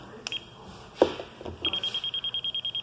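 A small plug-in voltage checker on a live outlet beeps in a fast, steady run of high, evenly spaced pulses, close and clear, after a few clicks of handling.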